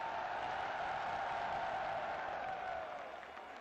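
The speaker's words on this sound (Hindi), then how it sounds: "जरा हाथ उठाकर तालियों की गूंज में बताइए इमरान खान से कितना प्यार करते हैं आप" A large crowd at a PTI political rally in Faisalabad applauds in a dense, steady roar of clapping that holds for several seconds before fading slightly at the end.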